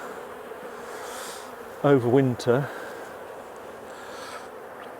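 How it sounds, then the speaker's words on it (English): Honey bees at a nuc hive buzz steadily and close, a continuous insect drone, with someone speaking briefly midway. "But they're not terribly happy bees"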